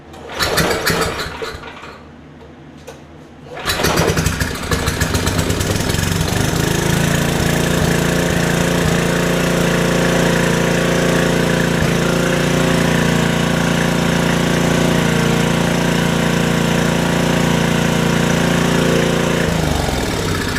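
A small engine starts after a few seconds of quiet handling, then runs loud and steady at a fast, rattly idle close up, with no talking over it.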